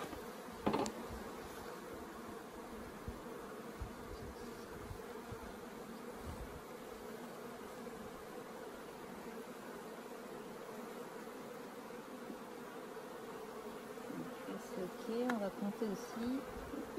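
Honeybees hum in a steady, dense drone from a six-frame queen-rearing hive being smoked, the buzz close and continuous throughout with a brief knock near the start and some light handling noise near the end.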